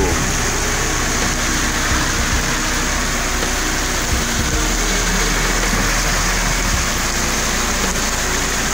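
Heavy rain pouring steadily on a city street at an avenue intersection in central Mossoró, Brazil, a constant loud hiss with a low rumble of car engines beneath it.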